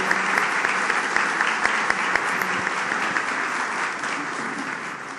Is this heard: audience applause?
yes